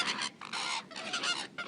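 Flamingos give harsh, nasal, goose-like honks in quick overlapping bursts during a courtship display, heard close and without talk over a short moment on a windy day.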